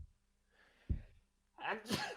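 A quiet, faint start, then a brief low thump before a loud, close sneeze bursts out with a sharp inhale and explosive release.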